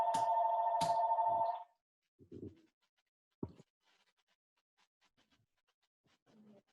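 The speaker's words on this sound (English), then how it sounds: "there's a phone ringing in my background" A telephone rings in the background of a home during a virtual meeting: a loud steady tone in pulsed bursts for the first second and a half, then near silence broken by a few soft scrapes and knocks.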